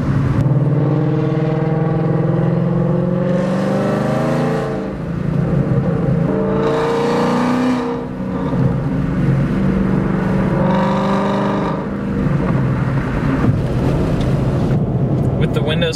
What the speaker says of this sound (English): crack the windows so you guys can hear the exhaust a little bit.